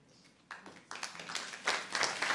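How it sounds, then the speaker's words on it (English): A lecture audience breaks into clapping, starting sparse and quiet then swelling into steady applause from many hands, fairly distant. "They're clapping for you."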